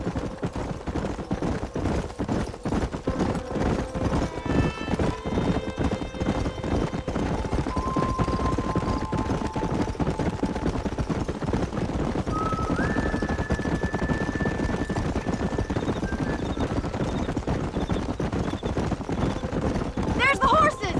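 Horses clip-clop and gallop in the Western video game Red Dead Redemption, hooves thudding steadily beneath music and intermittent game speech, with a brief whinny-like rise near the end.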